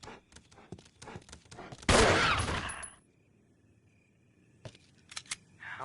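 Gunfire in Resident Evil Remake arrives as a run of sharp clicks and shots, then a dense loud burst lasting about a second, followed by quieter hits; a voice speaks briefly.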